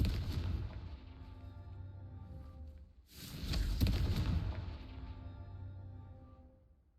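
Confringo fire spells detonating in the game Hogwarts Legacy, heavy booming blasts: one rumbling explosion fading at the start, then a louder burst around three seconds that decays slowly.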